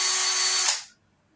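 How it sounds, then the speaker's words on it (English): A power drill whines at high speed drilling out a plastic string trimmer spool, a loud close burst that stops abruptly after under a second, followed by quiet. "you have to drill these things out"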